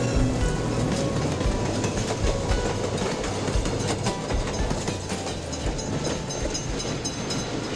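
A train rolls along the rails with a steady, loud rumble and rhythmic clickety-clack of wheels over track joints, continuous throughout.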